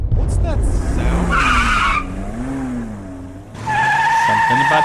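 A motorcycle in Tales from the Borderlands skids with tires squealing over a revving engine, with music and voices mixed in; the screech rises and falls across several seconds.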